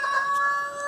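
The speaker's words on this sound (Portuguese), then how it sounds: "desconsiderem o galo" A rooster crows in a single brief, steady, tonal call, fairly loud and close, with no talk over it.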